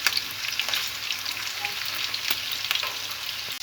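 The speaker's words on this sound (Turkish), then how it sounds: "Eşit şekilde her tarafını çevire çevire kızartalım." Meatballs sizzle in a pan, a loud constant frying hiss with faint pops and a few light scrapes as they are turned.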